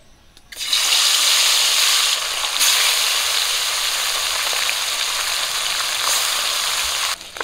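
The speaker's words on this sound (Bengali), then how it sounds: "তেল গরম হয়ে গেছে, মাছ দিয়ে দেবো।" Small marinated fish hit hot cooking oil, setting off a sudden loud, hissing sizzle that holds steady for several seconds, close by, before cutting off near the end.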